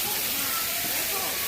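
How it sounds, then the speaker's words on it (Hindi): A motorless, gravity-fed garden fountain in Udaipur sprays water that falls like rain, a dense continuous hiss that masks nearly everything else. "बिना बादलों वो जो बारिश टाइप पानी गिर रहा है ना"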